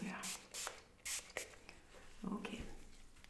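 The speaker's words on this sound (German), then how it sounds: "Sprühnebel ist einwandfrei" A handheld spray bottle gives several short, breathy bursts of mist in quick succession, close and quiet, mixed with faint rustling and handling noises.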